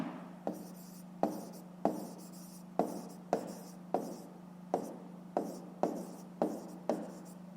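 A pen on paper writing in roughly a dozen short, regular strokes, each a crisp scratch that trails off, close and clear over steady background hum.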